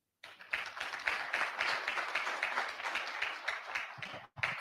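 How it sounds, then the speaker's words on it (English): A crowd applauds steadily for several seconds, dense clapping that rises quickly, holds, then briefly drops before picking up again. "a round of applause for Sharon Uchono."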